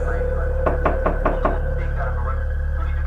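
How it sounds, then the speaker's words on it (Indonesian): Five sharp knocks on a door in a horror story, evenly spaced and close, rapping over a steady low hum before fading into the background drone. "Namun ketukan itu tidak berhenti."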